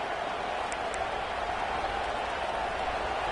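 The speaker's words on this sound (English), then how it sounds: "this home crowd is fired up and ready to make a difference today" A home crowd in a college football video game, Michigan versus Texas, sends up a constant wash of cheering and applause-like roar, steady and even with no distinct peaks.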